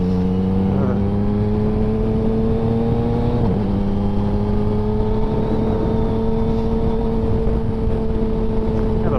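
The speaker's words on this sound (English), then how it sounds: "You can really pick up on my ADD personality when I'm riding my motorcycle." A motorcycle engine drones loud and continuous from the rider's position, its pitch rising slightly as the bike accelerates, with steady wind rush throughout.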